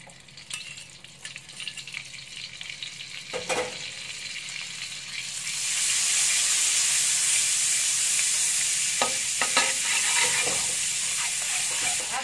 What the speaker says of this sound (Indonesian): kita tumis nasinya dengan sedikit minyak dan mentega